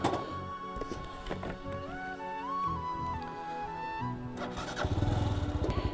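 A GPX Demon 165 RR motorcycle is started in gear with the clutch held. A nearby whining starter rises and shifts pitch, then the engine catches near the end with a loud, rough, pulsing idle.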